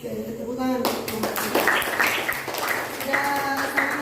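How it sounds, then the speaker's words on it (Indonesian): A room of teachers breaks into brief clapping after a school presentation, the applause rising and falling over about three seconds, mixed with voices talking over it. "Oke, tepuk tangan."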